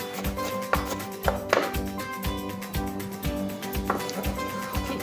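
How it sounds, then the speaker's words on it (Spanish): Knife chopping capers finely on a cutting board, a steady run of quick, close taps and thuds in an irregular rhythm, with no voices. "ahora picamos la alcaparra, como veis, bien chiquitita"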